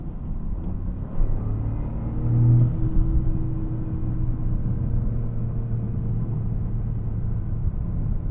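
A 2025 Toyota GR Corolla drives along with a steady low engine and road rumble from inside the cabin, swelling briefly as it pulls forward, then holding an even drone.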